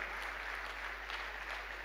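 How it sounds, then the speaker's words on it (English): Church audience applause, a dense, even wash of many hands clapping at a moderate distance, steady throughout with no voices over it. "let's give him a hand clap of applause as he comes to share about the man as a mentor"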